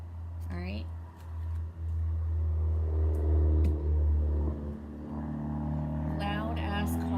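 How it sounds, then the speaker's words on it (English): Loud cars on a residential street outside an open window give a heavy, droning engine rumble that swells and passes, while someone talks close by over the traffic noise. "Loud ass cars on my street."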